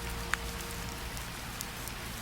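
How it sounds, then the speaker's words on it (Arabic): Steady rain falls in a soft, even wash of patter, with a few faint droplet ticks and no voices. "هيا لنخرج تحت المطر."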